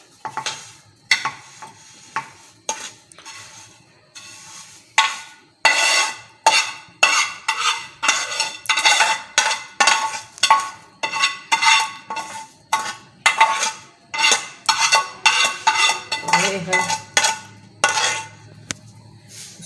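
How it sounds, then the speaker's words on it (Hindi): A spoon stirs vermicelli cooking in milk in a pot. Close, rhythmic scraping strokes repeat steadily, sparse at first and then fast and regular, with a low bubbling hum near the end and no talking. "साथ ही मैं इसको चलाऊंगी, इसको धीरे धीरे पकाऊंगी अच्छी तरह।"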